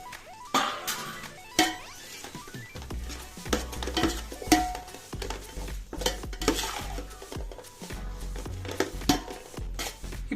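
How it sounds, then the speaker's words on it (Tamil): Tomatoes and green chillies tipped into a hot pan for chicken biryani, with clattering stirs, scraping utensils and sizzling frying in irregular bursts, close and loud, no talking. "ஸோ தக்காளி, பச்சை மிளகா ரெண்டுத்தையும் ஆட் பண்ண போகிறோம்."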